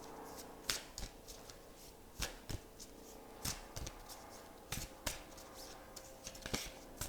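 Tarot cards are shuffled by hand in repeated soft riffling bursts and crisp snaps, close and quiet, arriving in an uneven rhythm with short pauses between them.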